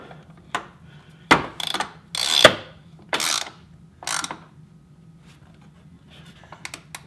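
A socket ratchet tightens the 32-valve V8 valve cover bolts on a 2003 Ford Mustang Mach 1. Close, crisp clicking comes in several short bursts separated by quiet pauses.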